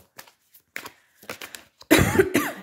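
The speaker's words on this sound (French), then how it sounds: "Excusez-moi pour la toux." A few faint, scattered taps and breaths, then a sudden loud cough near the end, close and harsh.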